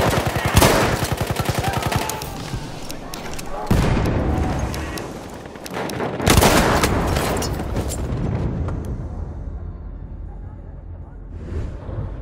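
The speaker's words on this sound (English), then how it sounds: "Feindliches MG!" Enemy machine gun fire rattles in dense automatic bursts during a Battlefield 1 firefight, mixed with other gunshots and booms, while someone talks over the din.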